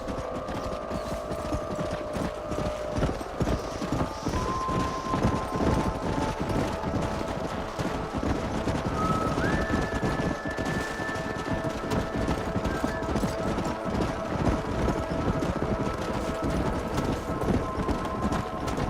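Horses in the video game Red Dead Redemption clip-clop steadily in a continuous trotting rhythm, with faint mechanical creaks and tonal game sounds layered above.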